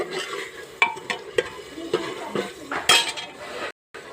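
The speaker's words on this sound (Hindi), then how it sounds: "इसमें लहसुन का ही पेस्ट डाल देंगे 1 चम्मच और इसकी बहुत अच्छे से हम भुनाई कर लेंगे।" A spoon scrapes and clinks against a pan over a soft sizzle of garlic paste frying, stirring in irregular strokes, close and fairly quiet.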